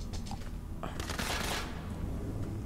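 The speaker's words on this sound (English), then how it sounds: "Is someone shooting at me?" Bursts of gunfire from a firefight in the video game Borderlands 3, a steady rattle of rapid shots with a heavier volley in the middle, close and loud throughout.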